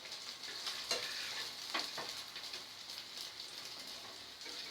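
Eggs slipped gently into a sizzling egg korma gravy, a steady close frying hiss with a few soft stirring clicks and splashes, no voices.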